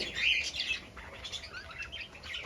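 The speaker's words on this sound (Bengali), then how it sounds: "আমার ছোটখাটো একটা বাজিগারের কলোনি আছে" Budgerigars in a small home colony chirp and twitter in a busy, overlapping chatter, soft and continuous, close by.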